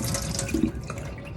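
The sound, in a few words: water draining off rinsed carrots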